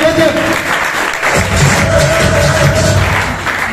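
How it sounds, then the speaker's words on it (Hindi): An indoor audience claps together at a Hindi networking meeting, a loud, sustained wash of hands with some cheering and thuds, and someone speaking over it. "मैं दिल से आपके लिए ताली बजाऊं, बहुत बढ़िया"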